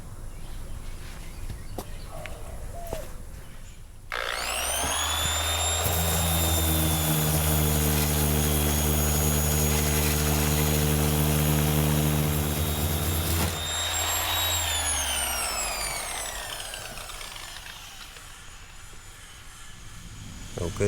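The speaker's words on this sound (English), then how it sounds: "I'm gonna take my DA with the 80 grit on it and just clean up the rest of it" Dual action sander fitted with 80 grit paper running steadily over rusty car body metal, a loud sustained whine with shifting pitch that starts after a quiet pause and winds down near the end.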